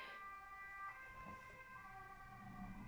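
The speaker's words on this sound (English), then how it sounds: "Wow, that's a lot of sirens today." Emergency vehicle sirens wail faintly from outside, a steady distant tone with no talking over it.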